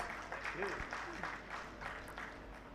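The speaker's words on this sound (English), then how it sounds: "Can we have a huge round of applause?" Applause from an audience at an IWMI international organisation event during a memento presentation, a soft, steady wash of clapping heard at a distance, with a voice speaking over it.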